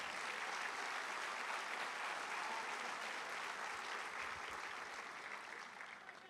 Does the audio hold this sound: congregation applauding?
yes